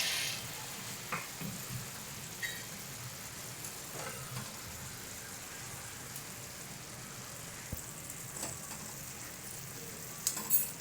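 Fried malpua dropped into hot sugar syrup give off a soft, steady sizzling hiss, broken by occasional faint plops and clinks. The sound is quiet, close and unbroken, with no talking.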